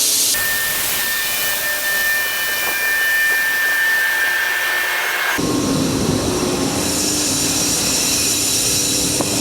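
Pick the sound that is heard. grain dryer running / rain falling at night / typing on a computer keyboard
grain dryer running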